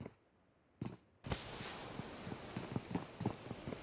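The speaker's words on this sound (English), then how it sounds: "He's heard the footsteps." Footsteps in the PUBG Mobile video game thud in a quick, steady rhythm after a short quiet stretch, close and fairly faint, with no voices.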